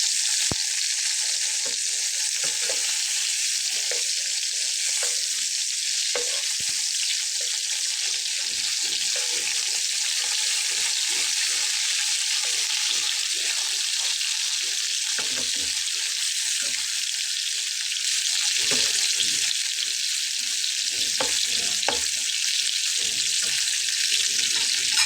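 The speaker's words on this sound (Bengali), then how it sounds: "আমার মাছটা ভাজা হচ্ছে আর কি" Sea fish fries in oil in a frying pan, a constant, bright, hissing sizzle that stays level and close for the whole stretch, with no voices.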